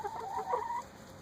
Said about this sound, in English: And here's chickens in here.